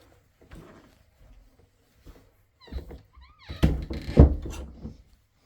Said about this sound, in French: On ferme la porte.